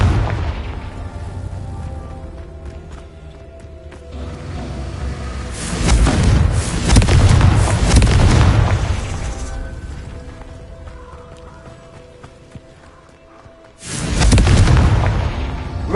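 Fiery spell blasts in the Hogwarts Legacy game, repeated booming explosions with long rumbling tails, loud bursts around a few seconds apart and a heavy final hit near the end.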